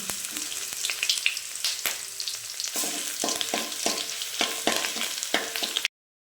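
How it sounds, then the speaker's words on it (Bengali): Chopped garlic fries in a pan after fried potatoes are pushed aside, making a close, steady sizzle broken by repeated rhythmic stirring scrapes, then stopping abruptly. "তোমার রসুনটা ভাজা ভাজা হয়ে গেছে"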